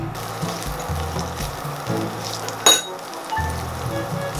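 Chili and garlic stir-frying in a hot pan make a steady, loud sizzle, with a single sharp metallic clink partway through and the frying briefly dipping before resuming.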